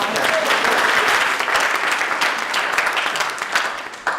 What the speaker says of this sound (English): if you don't mind giving another round of applause